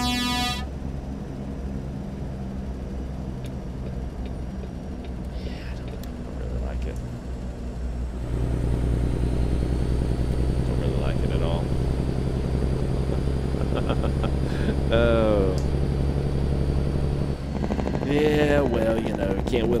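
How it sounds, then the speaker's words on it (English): A heavy truck's Z-Mod N14 diesel engine pack in a truck simulator game, a steady loud drone that deepens and grows louder partway through, with brief tonal blips over the running engine. "this engine pack is Z-Mod's N14"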